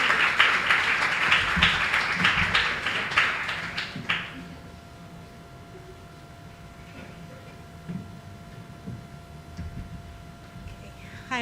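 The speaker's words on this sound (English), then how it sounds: "please give a round of applause to the writers" A live audience at a literary festival showcase claps in a dense burst of applause that holds for about four seconds, then stops abruptly, leaving quiet room tone.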